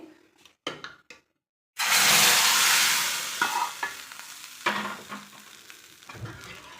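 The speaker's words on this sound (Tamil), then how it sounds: "இப்போ நம்ம தாளிப்பு சேர்த்திடலாம் தாளிப்பு சேர்த்தியாச்சு" Hot tempering poured into spinach gravy sets off a loud, sudden sizzle that slowly fades into crackling frying, preceded by a few sharp knocks of a utensil against the pan.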